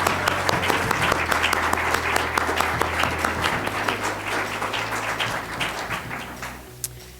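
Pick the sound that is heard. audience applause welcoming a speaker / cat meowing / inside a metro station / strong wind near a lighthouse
audience applause welcoming a speaker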